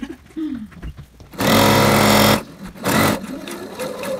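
A sewing machine stitches a short seam on a fabric tote bag. It gives a steady mechanical whir lasting about a second, then a shorter second burst, with quiet handling sounds around them.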